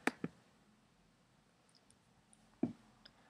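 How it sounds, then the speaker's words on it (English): A computer mouse clicks softly a few times in a quiet room: a quick double click, then a pause before another click, close and faint. "so that we don't have to hear me clicking all the time"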